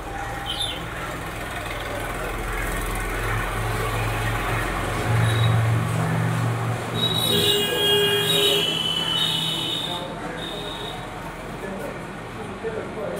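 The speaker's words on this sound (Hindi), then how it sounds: "कुछ गाड़ी की आवाज ज्यादा ही आने लग रही है" Outdoor vehicle traffic rumbles steadily past a room in India, with engine drone swelling and a horn-like tone sounding midway, under a man's ongoing lecture speech.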